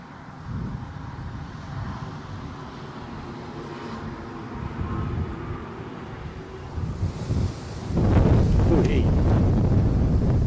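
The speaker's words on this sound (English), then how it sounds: "that was the strongest gust of the day" Outdoors at Newcastle International Airport, a strong wind gust buffets the microphone, rumbling low and uneven at first, then swelling into a heavy, loud roar near the end.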